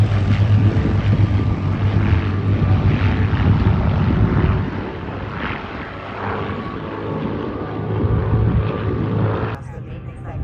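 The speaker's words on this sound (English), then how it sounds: "Flying in our fighter review today, flying the Focke-Wulf FW-190, Ray Fowler." WWII fighter planes, among them a Focke-Wulf FW-190, a BF-109, a Spitfire and a P-51, fly at an airshow in Michigan with a loud, sustained propeller-engine drone that eases off and returns, and a voice talks over it.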